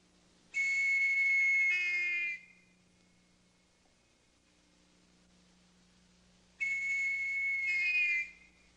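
A loud, shrill scout whistle blows twice in the mountains of Pico dos Marins, Brazil, each blast lasting nearly two seconds with a wavering pitch, separated by a long quiet gap over a low steady hum.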